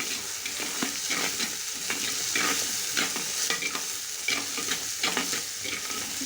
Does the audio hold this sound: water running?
no